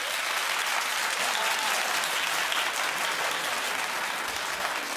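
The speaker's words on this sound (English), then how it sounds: "Clap if you don't like this relationship." A studio audience at a daytime talk show claps steadily, dense and even throughout, without pause or swell, with faint murmurs mixed in.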